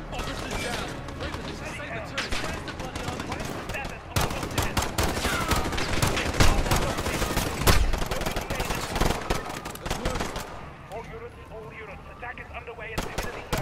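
Dense gunfire from a Call of Duty Modern Warfare campaign battle, sustained fusillades of rifle and machine-gun bursts with heavier booms, loud and continuous throughout, with a player talking over the fighting.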